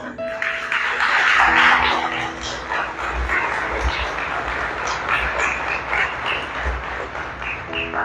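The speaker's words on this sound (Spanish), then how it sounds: "Dele un aplauso al Señor." A church congregation claps in a burst of loud, dense applause that swells early and then carries on more evenly under some cheering voices.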